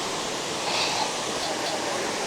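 A steady, full rush of river water flowing past stepping stones near Cat Cat Village in Sapa, Vietnam, constant and fairly close with no breaks.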